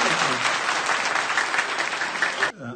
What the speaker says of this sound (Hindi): तो एक बार सब बच्चों के लिए जोरदार ताली।